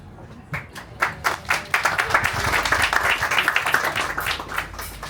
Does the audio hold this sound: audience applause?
yes